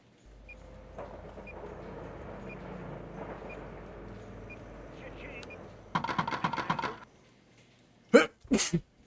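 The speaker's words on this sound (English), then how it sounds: "I sneezed" A single sharp human sneeze bursts out near the end, after a stretch of talk over a steady low truck-cab engine hum from a trucking simulator game, with a brief quiet gap before it.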